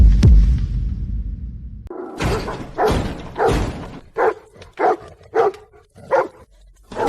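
Several deep, loud barks from large dogs, repeated in a steady series of separate bursts after a brief noisy start.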